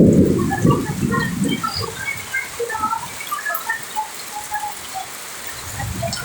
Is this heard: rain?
yes